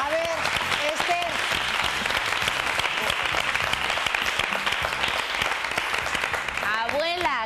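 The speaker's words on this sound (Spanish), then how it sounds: "Un aplauso." Studio audience applauding on a Spanish television variety show, steady dense clapping sustained throughout, with a host's voice and excited shouts breaking in near the start and again at the end.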